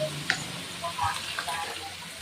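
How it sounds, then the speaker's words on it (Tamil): Brinjal, potato, yam and cluster beans frying in oil in a kadai, a faint sizzle under clinks of a utensil, with a few brief tonal sounds and some background noise. "இப்ப காயெல்லாம் வடச்சட்டியில போட்டாச்சு"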